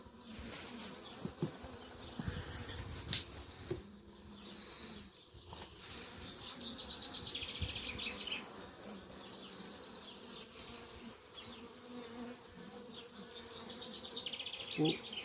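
Honeybees buzz steadily in a dense, droning swarm close by at apiary hives during maintenance, with occasional handling knocks and rustles among the hum.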